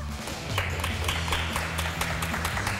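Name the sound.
audience applause for Chef Laura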